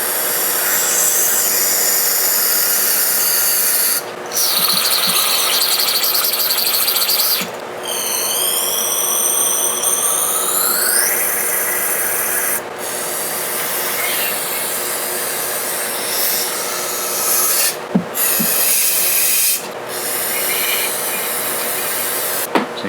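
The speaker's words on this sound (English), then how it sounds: "time for another can of carb cleaner" Carb cleaner sprays from an aerosol can in long, loud, continuous hissing bursts separated by short breaks, close up while working on a 2010 EZGO RXV gas golf cart.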